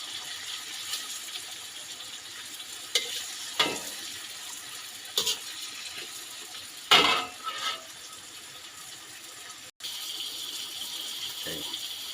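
A chicken breast is pan-frying for creamy chicken with mushroom sauce. A soft steady sizzle runs under several sharper clatters and stirring scrapes, with a brief cut near the end, and no one speaks.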